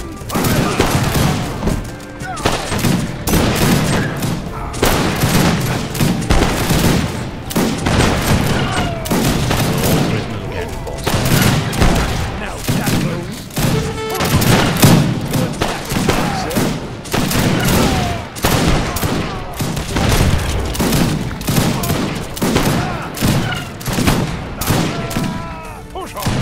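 Musket volleys crackle continuously in the Age of Empires 3 strategy game, loud rapid gunfire and booms layered densely across a long battle with game voice lines mixed in.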